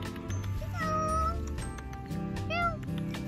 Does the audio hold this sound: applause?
no